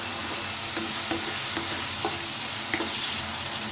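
Tomato, potato leaves and small puti fish bhuna fry in a pan with a constant close sizzle, broken by soft periodic stirring scrapes and no voices.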